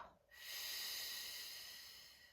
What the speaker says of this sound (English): taking a nice deep breath in and a nice controlled exhale